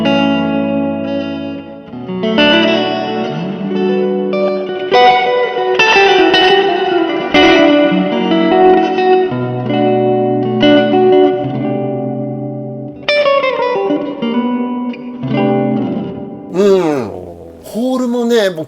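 Electric guitar chords and single notes ringing out through the hall reverb of a Limetone Audio Moonlight pedal with its tone knob at 12 o'clock, leaving wide, lingering tails that carry on under someone talking.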